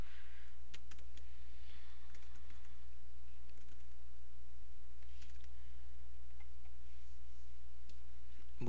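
Typing on a computer keyboard: a steady run of light clicks and taps, close and fairly quiet, over a constant low electrical hum.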